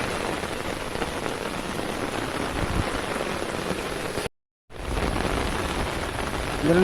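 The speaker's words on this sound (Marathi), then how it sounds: "बघा किती पाऊस लागला एकदम" Heavy monsoon rain roars steadily and close outdoors during crab catching, broken by a sudden brief silence before the downpour resumes.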